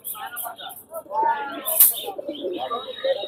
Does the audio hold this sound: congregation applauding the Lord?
no